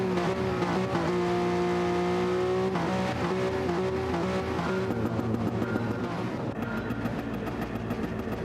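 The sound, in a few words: race cars driving in the video game Gran Turismo 7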